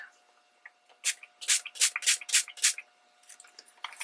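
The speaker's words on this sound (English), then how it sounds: "So I'm spraying that." A series of short spray bursts onto a piece of washi paper, about six quick hisses in a row with brief gaps, followed by softer scattered spritzes.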